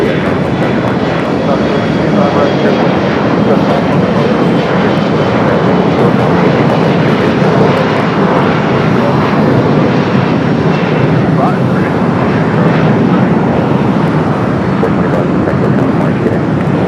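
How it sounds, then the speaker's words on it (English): An American Eagle E-Jet operated by SkyWest roars through its takeoff roll at Los Angeles airport, a loud, steady broadband engine rumble that holds for the whole stretch without fading. "Next takeoff in E-Jet, American Eagle, SkyWest Flight 6425"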